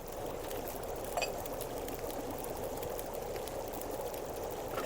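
Water steadily pouring into cooking pots in The Long Dark, a continuous trickling stream at moderate level with a faint clink partway through.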